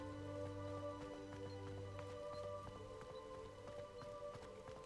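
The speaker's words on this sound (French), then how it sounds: "Là, il pleut." Rain patters steadily in Hogwarts Legacy, faint scattered droplet taps over a low continuous hum, with no talking.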